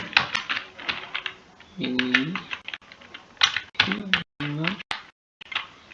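Fast typing on a computer keyboard while an Android project is edited, heard as close, crisp bursts of key clicks in quick runs. Someone talks over and between the bursts.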